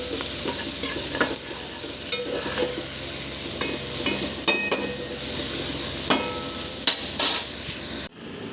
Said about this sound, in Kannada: ಏರ್ ಫ್ರೈಯರಲ್ಲಿ ಮಶ್ರೂಮ್ ಗೊಜ್ಜು ಮಾಡ್ತಾಯಿದ್ದೀನಿ.